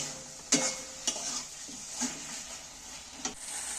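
Eggplant, potato and tomato sizzle in a pan while being stirred, a soft continuous fry marked by a few distinct spatula scrapes against the pan, close but fairly quiet, with no voices.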